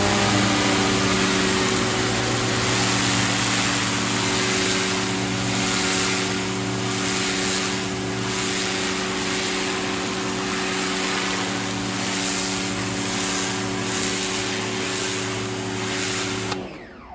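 An AVA P60 Easy pressure washer runs with a loud, steady motor drone and hissing high-pressure jet spray at close range, continuing without pause before cutting off at the very end.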